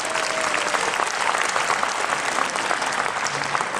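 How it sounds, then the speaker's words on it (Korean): Steady, dense applause from a crowd at a community badminton sports tournament ceremony, clapping continuously and loudly throughout without letting up. "박수 한번 부탁드리겠습니다"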